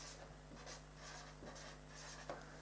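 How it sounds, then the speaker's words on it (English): Faint handwriting scratches and rubs along quietly, in a few soft strokes over a low steady background hum. "Well, I might write it here, eh?"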